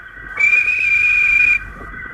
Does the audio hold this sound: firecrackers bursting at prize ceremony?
no